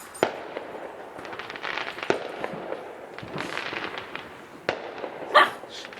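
New Year's Eve fireworks go off outdoors near a back door, a scattered run of sharp pops and bangs, some close and loud, others distant crackles, with a dog faintly audible.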